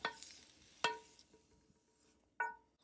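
Eggplant being stir-fried in a wok gives three sharp, metallic spatula clanks at uneven intervals, quiet overall, with a soft sizzle fading between them.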